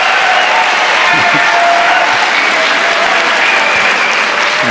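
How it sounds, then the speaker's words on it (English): Loud, dense applause fills a lecture hall during an astronomy talk at UC Berkeley, a steady even roar of many hands clapping that holds at full strength throughout, with faint crowd murmur beneath. "can we hear like a little applause here?"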